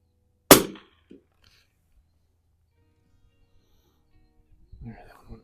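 A Winchester 52 Pre A rifle fired at 100 yards with iron sights: one sharp, loud shot with a short decaying tail, then quiet, with someone speaking faintly later.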